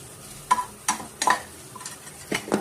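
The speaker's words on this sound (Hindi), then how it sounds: "इसका वाटर सूखने दूँगी और तोड़ कर फ्राई करूँगी।" Chicken keema for a samosa filling is broken up and fried in oil in a pan. About five sharp scraping strokes of a spatula sound over a soft, continuous sizzle.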